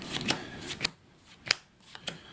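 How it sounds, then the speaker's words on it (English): Playing cards are shuffled in several quick, crisp riffling bursts with short pauses between them, close and clear. "We'll do a power shuffle or a pop shuffle."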